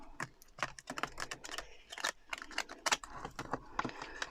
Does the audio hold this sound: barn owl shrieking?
no